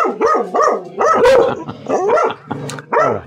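A dog barks and yips in repeated loud, close bursts, several barks following one another with short gaps, heard with no talk over them.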